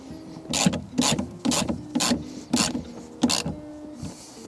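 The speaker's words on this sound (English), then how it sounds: "Then we're going to tighten the nut up and then use the ratchet to snug it up." Six quick, crisp ratcheting bursts from a ratchet tightening a car battery terminal nut, evenly paced at about half-second intervals, close and clear with no talking.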